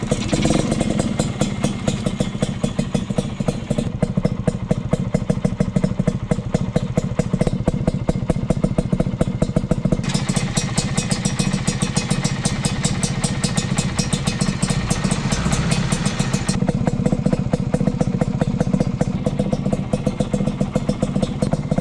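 A Kawasaki HD3 two-stroke scrambler motorcycle engine runs steadily at idle with a rapid, buzzing putter and light mechanical clatter, close and continuous throughout.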